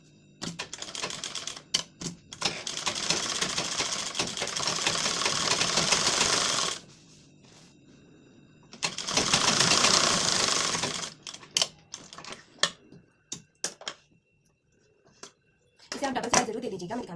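Sewing machine running single stitches to attach lace on a blouse, in two long whirring bursts with short stops and clicks between, then a brief final run, quiet talk in the pauses.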